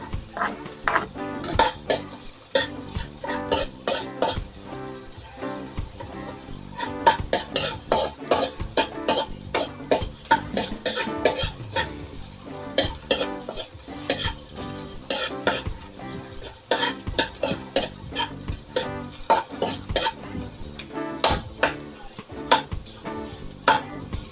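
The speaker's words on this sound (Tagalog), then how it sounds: "Papupulayin ko lang muna ng konti itong ating luya. Sunod din ating bawang." Ginger and garlic sauté in a pan with frequent scraping stirs and clinks of a utensil against the metal over a steady sizzle, close and fairly loud throughout, with no talking.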